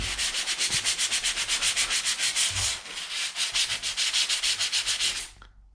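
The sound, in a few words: light hand sanding of drywall patch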